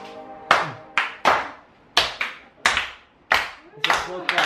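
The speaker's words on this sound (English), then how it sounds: "It's a slow clap." Seven slow, spaced hand claps ring out one at a time on a recipe-video set, each sharp and fairly close with a short room echo, the last two coming a little closer together.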